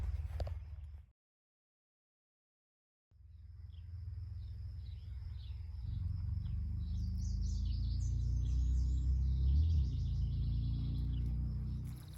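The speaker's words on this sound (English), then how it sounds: "listen to the birds" Birds sing along a wooded trail in Walden Preserve, Connecticut, with faint high chirps and trills over a low steady outdoor rumble, and a brief silence near the start.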